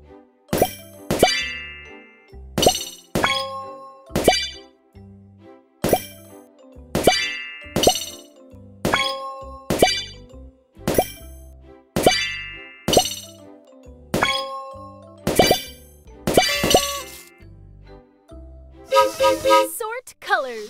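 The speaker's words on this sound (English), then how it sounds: "pop the balloons." Repeated bright pops with chiming tones sound at a steady pace in a kids' educational balloon-popping game, about a dozen crisp hits spaced a second or two apart, ending in a short sparkling flourish.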